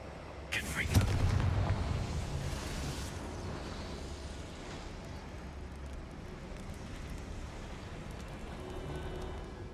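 In the Hogwarts Legacy video game, a Confringo blasting spell explodes in a single booming burst near the start, then the sound drops to a low, steady ambient rumble.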